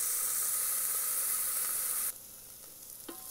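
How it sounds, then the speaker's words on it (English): Onion fries in an Instant Pot with a loud, steady sizzle that suddenly drops to a quieter bubbling, followed by a brief clink of a utensil. "Onion need not be fried very well, just translucent"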